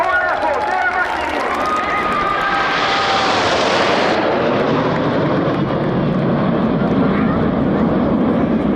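Red Arrows RAF Hawk T1 jets perform at the 2025 RAF Cosford Airshow, a loud jet roar swelling and sweeping past at close range, with an announcer talking throughout over faint crowd noise.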